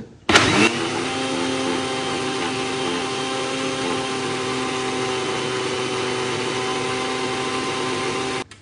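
A mixer-grinder juicer jar whirs steadily as it grinds tamarind pulp with water, starting with a sharp burst and then holding a loud, even motor drone with a high whine for several seconds until it stops.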